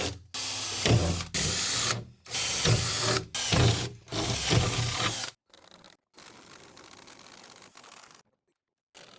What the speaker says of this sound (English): we're going to go ahead and just punch some holes 1 inch from each end